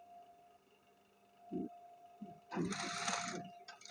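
A sewing machine stitches a back-opening garment neckline in short runs, a brief burst then a louder sustained whirr near the end, close by, with no talk over it.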